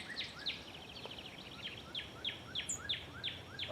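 A field sparrow repeats a series of thin, high chip notes at a quick, regular rhythm, about eight calls, faint and somewhat distant over quiet outdoor background noise.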